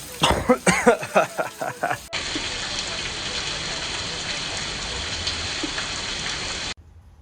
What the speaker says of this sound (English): It decided to start pouring rain on me mid-install